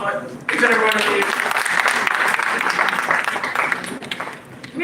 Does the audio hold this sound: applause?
yes